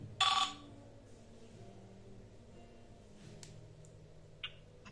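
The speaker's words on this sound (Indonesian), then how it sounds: "Ada telepon dari Mbak Bisri. Kita angkat dulu ya." Telephone ringing with an incoming call, one short loud ring burst at the start, then quiet room tone with a couple of faint clicks.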